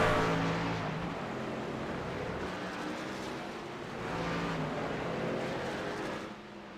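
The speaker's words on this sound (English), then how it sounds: "There's Michael McCoy rocking and rolling in that Blue Glove Racing back 33 Toyota" Stock car engines roar around the Circuit Gilles Villeneuve road course, a steady, dense drone with a slight swell midway as cars pass, moderately loud with no talk.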